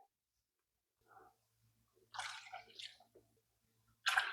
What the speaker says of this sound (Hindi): ये देखिए अब इसमें हम पानी मिलाएंगे